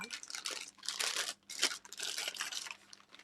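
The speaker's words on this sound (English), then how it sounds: "And cut the end, then twist the bag." A plastic piping bag full of cream being twisted shut, crinkling and crunching in short bursts with brief pauses between, close up and with no voices.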